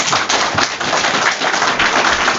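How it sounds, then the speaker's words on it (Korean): Loud, sustained applause from an audience at an expert panel discussion on administrative integration, dense clapping filling the whole stretch with no speech over it. "여러분들 박수 소리가 큰 힘이 될 것 같습니다"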